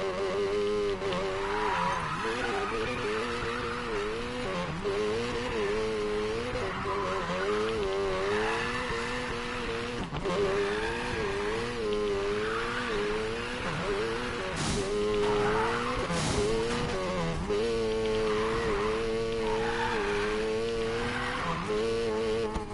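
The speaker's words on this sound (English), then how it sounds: "This will be my first set of drifts today, right?" Drifting in Need for Speed Payback: an engine wails and warbles through repeated rising and falling revs, with tire squeal smeared over it, and a voice talks intermittently through the run.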